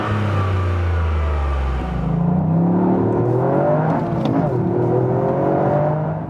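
Toyota GR Yaris, a 2021 all-wheel-drive hot hatch with 261 hp, driving with its engine rising and falling in pitch as it revs, loud and close throughout, with a steady low drone giving way to climbing engine tones.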